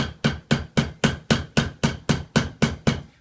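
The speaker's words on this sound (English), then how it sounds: "Now on the steel mandrel," A mallet strikes sheet metal on a steel mandrel while forming a traditional Guernsey milk can, giving about eleven loud, evenly spaced ringing blows, each with a short decay, and no talking.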